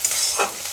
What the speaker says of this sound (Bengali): এখন খালি একটু এইভাবে নেড়ে নেড়ে দেবো, তাহলে ভাজা হয়ে যাবে।